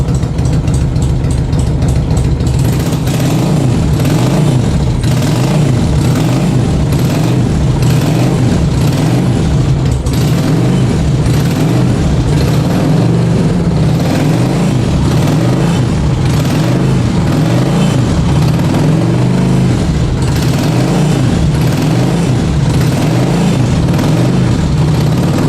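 A 2000 Honda VT600 C motorbike engine runs steadily at idle throughout, with a loud, even low-pitched pulsing thrum and no talk over it.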